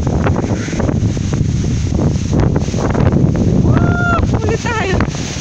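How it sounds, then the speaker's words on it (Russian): Very strong wind roars in Samara as constant heavy buffeting across the microphone, loud and close, with a few faint tonal sounds rising through the rush. "Очень сильный ветер."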